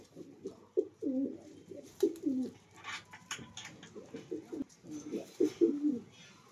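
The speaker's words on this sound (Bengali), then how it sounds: "এগুলো আমার বাড়ির পায়রা, ভালো উড়া পায়রা" Domestic flying pigeons, a male and a female, coo close by in repeated soft, throaty bursts, a rolling rhythm of low calls with brief pauses, quiet and intimate against faint background rustling.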